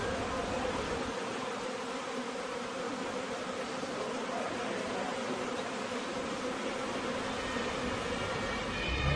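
A dense, steady buzzing of a honeybee swarm fills the air continuously, a broad droning hum with no voices.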